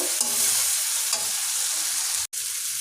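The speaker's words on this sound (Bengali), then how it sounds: "মশলাগুলো একবার একটু ভালো করে কষিয়ে নেব" A paste of turmeric, chili, salt and cumin powder is stir-fried in a pan, with loud close sizzling broken by a few distinct stirring strokes and a sharp momentary cutout near the end.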